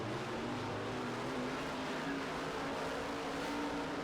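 A modified race car roars through a dirt-track heat, its engine a steady, loud drone with a rising pitch as it passes close by.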